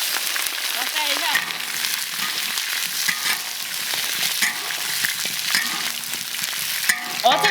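Pork tails dropped into caramelized sugar in a wok, frying with a dense continuous sizzle and occasional clanks of a utensil, a faint voice now and then underneath.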